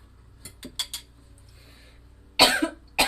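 A few short throaty coughs, then one loud harsh cough near the end, with quiet pauses between and a faint clink in the background.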